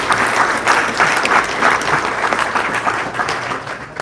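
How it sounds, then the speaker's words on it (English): Audience applause for panelists at an ethics symposium, a steady burst of clapping from a roomful of people that holds briefly and then begins to thin out. "another round of applause for our amazing panelists"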